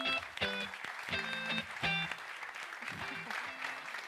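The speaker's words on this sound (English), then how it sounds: "Let's have an applause for Ines." Scattered applause from a small group, fairly quiet, with a voice speaking over it.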